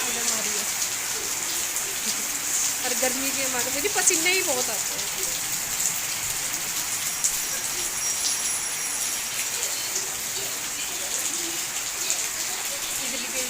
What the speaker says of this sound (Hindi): अभी अभी अब बारिश देखिए कैसी जमा आ रही है